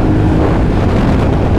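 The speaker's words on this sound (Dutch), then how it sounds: "Nu hoor je ook wel veel wind." Loud, steady wind buffeting a microphone while riding a Yamaha Tenere motorcycle, a continuous low roaring rush with no breaks and no talking.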